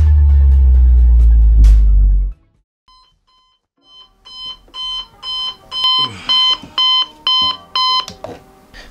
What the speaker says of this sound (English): So I went out and I bought an 8 euro alarm clock.